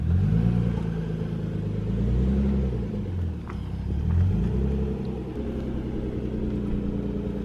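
A clean stock Nissan 300ZX with a manual gearbox drives along, its engine a steady low rumble that rises and falls slightly with throttle, heard from inside the car without talk.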